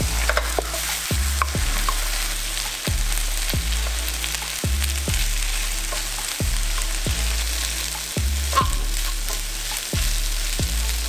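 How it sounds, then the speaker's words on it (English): Rice with minced garlic fries in a pan, a steady loud sizzle broken by regular scraping stirs of a spatula about once a second. "Add in the rice."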